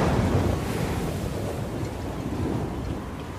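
Stormy ocean waves churn under gusting wind, a dense, steady roar of surf that stays loud and close throughout, with no voices.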